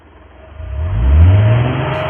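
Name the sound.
vehicle engine revving, radio play sound effect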